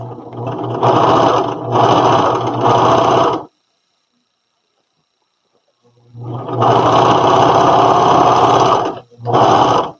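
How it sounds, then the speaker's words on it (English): A serger sewing machine stitches along the edge of sleeve fabric in loud, close, running bursts, stops for a few seconds of silence, then whirs on again in two more runs. "that is all serged on the edge"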